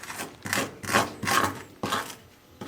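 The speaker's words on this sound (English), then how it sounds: "snakes get most of their fat or meat is right here in the side scales. And see how easy that scrapes off?" Fat and meat are scraped off a snake skin in about six rhythmic rasping strokes, each a close, gritty scrape with brief pauses between.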